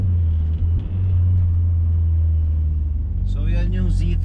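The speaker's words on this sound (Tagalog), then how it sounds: "So yan yung Z3 exhaust natin, no?" BMW Z3 idling with a newly fitted exhaust: a constant deep low rumble fills the clip, close and steady, with someone speaking over it near the end.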